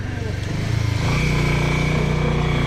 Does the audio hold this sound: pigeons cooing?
no